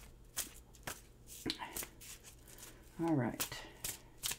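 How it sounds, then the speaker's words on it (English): Angel oracle cards are shuffled by hand in a series of crisp, papery snaps and riffles spread through the clip, close and fairly loud, while someone speaks briefly in between. "I'm going to shuffle and deal you an angel oracle card."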